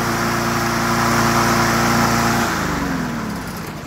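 A lawn mower engine, fitted with a Ryobi 18V battery electric start, runs loud and steady up close, then cuts off and winds down near the end.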